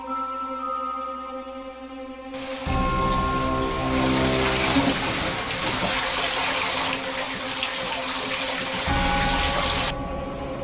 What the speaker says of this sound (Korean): 화장실에서 샤워기 물소리가 바닥에 쏴 하고 떨어지는 소리가 들리는 거야